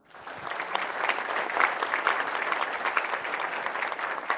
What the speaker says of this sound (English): A warm round of applause to all of you.